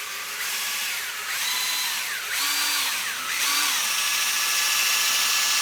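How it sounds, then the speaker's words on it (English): A power drill spins sandpaper against wooden dowel rods, whining steadily with pitch rising and falling as the load changes across several short passes, fairly loud and without talk. "I've got it chucked up in my drill. I'm just going to kind of sand them down a little bit."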